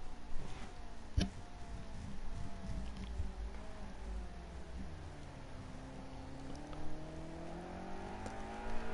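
GT3 race car in a racing game at Fuji, its engine note droning and slowly rising and falling as it passes at middle distance, steady and continuous under faint background noise.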